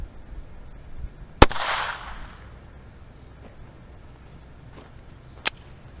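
Shotgun buckshot blasts from Resident Evil 2 Remake: a sharp, loud crack followed by a brief noisy burst, then a second isolated crack about four seconds later, with faint quiet gaps between.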